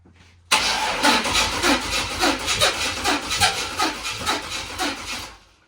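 A Chevrolet Malibu with a swapped LS V8 and homemade exhaust cranks and catches, then runs with a loud, uneven, pulsing rumble that sounds rough and unsteady.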